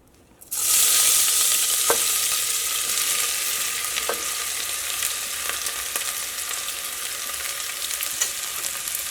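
Crushed ginger and garlic dropped into hot oil in a pressure cooker, a loud steady sizzle and crackle that holds on without pause, with a few light stirring clicks.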